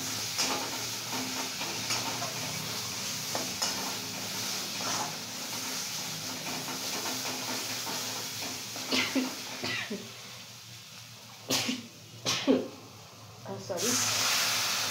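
A spice paste with red chili powder fries in a pan for a yogurt-based bhetki fish dish, giving a soft steady hiss that fades later into scattered clatter and knocks.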